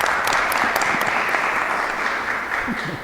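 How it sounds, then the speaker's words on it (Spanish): Audience applause at a book presentation for a history book on the Mexican Revolution and agrarian reform in Puebla, a steady dense clapping from a full room that holds evenly for about three seconds with no talk over it. "también les pido un aplauso"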